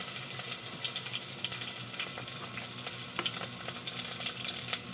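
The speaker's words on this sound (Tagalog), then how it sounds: "Igisa na nako si bombay ug si ahos." Onion and garlic sautéing in oil for ginisang sayote, a continuous close sizzle broken by frequent scraping stir strokes.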